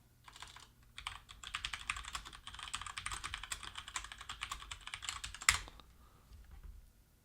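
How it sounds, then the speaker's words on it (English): Rapid typing on a computer keyboard clatters steadily for several seconds, close and fairly quiet, with no voices, ending in a sharper key strike before falling to near silence. "this is apparently the most personal keyboard I've ever had"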